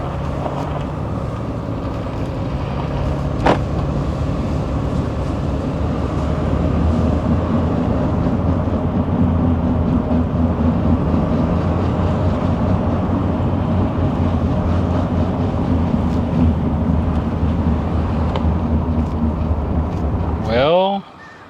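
A 2020 Ram 3500 dually pickup rolls along with a steady low drone and road rumble from a suspected front differential, loud and continuous throughout, ending abruptly near the close.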